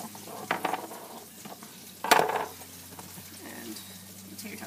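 Chicken frying in a pan gives a steady close sizzle broken by a few louder crackling bursts, with one sharp spatter around the middle; no talking.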